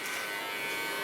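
An electric hair clipper running steadily, a continuous close buzz with a constant tone and no breaks for the whole short stretch.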